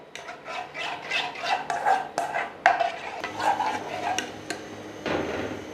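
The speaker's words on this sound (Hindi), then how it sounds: "7-7 चम्मच चलाते जाएंगे ताकि ये गुठलियाँ ना बने" A spoon stirs roasted wheat flour into beef nihari, scraping and knocking against the metal pot in quick, uneven strokes, close up and without talking.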